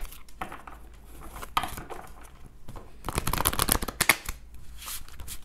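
Oracle cards are shuffled by hand close up, making rapid papery riffles and flutters in irregular bursts, with a heavier flurry midway and brief pauses between shuffles.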